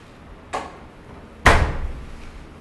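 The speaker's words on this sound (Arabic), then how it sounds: "افتح الباب." A door being opened indoors: a faint clack, then about a second later a louder thud with a rattling tail that fades quickly. No voices.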